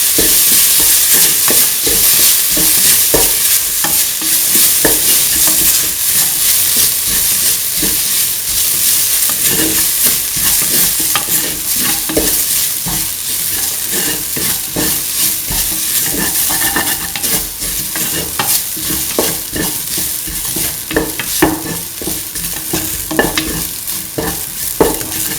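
Spoon stirring a fennel-coriander mixture frying in a pan, steady sizzling throughout with repeated scraping strokes against the pan, close up and with no talking.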